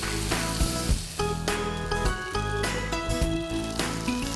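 Butter sizzles in a hot pan alongside a frying rib eye steak, a steady crackle running continuously under loud background music.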